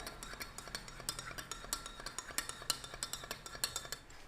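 A spoon stirs an iced coffee drink sweetened with caramel syrup, clinking steadily against the glass and ice in a quick, close run of light taps with no talk.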